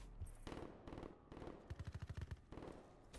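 Gunfire sounds during a Call of Duty: Black Ops III match. Quiet, distant-sounding shots come in short bursts, including a quick automatic rattle of about ten rounds in the middle.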